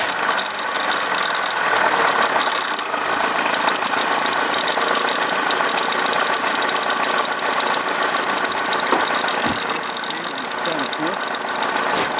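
An Opel Signum 2.2 petrol engine runs at a steady idle with a ticking, knocking rattle that sounds rough and uneven, with faint mechanical clatter beneath it.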